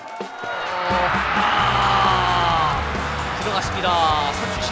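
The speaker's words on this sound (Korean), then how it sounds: "환호," Roaring crowd at a youth (under-20) international football match, loud and sustained cheers and yells swelling for several seconds, with a commentator's excited voice running over the noise.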